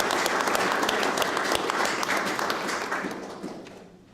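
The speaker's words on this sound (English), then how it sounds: "So I would like you to join me in a round of applause for our retiring committee and General Council Assessor" A hall audience gives a steady round of applause for a retiring committee at a university General Council meeting, dense clapping that holds strong before gradually thinning and fading out.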